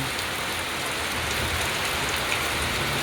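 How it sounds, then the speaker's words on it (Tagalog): Heavy typhoon rain pours steadily, a dense, continuous hiss of drops hitting surfaces close by, with no voices and no pauses. "Ang lakas ng ulan."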